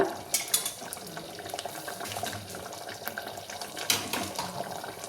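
Strained chickpea broth is stirred into simmering sambar with a spoon, giving wet sloshing and pouring sounds with a few sharp clinks against the pot, close and moderately loud.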